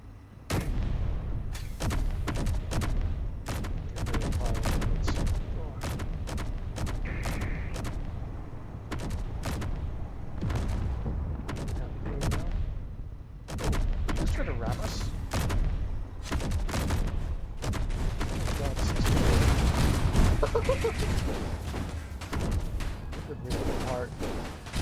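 Tank cannons and secondary turrets firing in the game Space Engineers, a dense, continuous barrage of sharp booms and rapid gunfire bursts with heavy low rumble throughout, loud and sustained.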